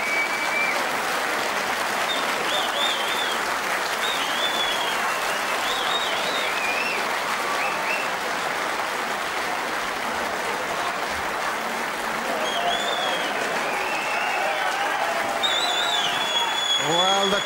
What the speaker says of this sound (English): the crowd are going absolutely crazy here at the Crucible Theatre